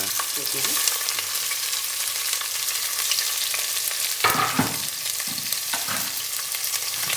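Onion and mint fry in hot ghee with a loud, steady sizzle and crackle, broken by a few scraping stirs of a spoon in the pan.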